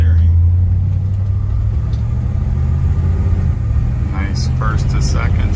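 A 1955 Chevrolet Bel Air driving, its engine a loud continuous low rumble from inside the car as it shifts through the gears, with a voice talking over it.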